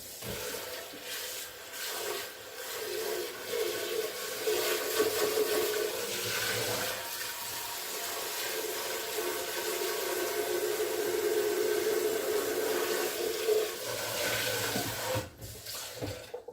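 Running water pours steadily from a tap as a container is rinsed out in a kitchen after making hummus, a continuous close splashing rush that fades out at the end.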